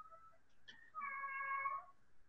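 A kitten meows close by in a quiet room, a short chirp followed by one longer, drawn-out meow.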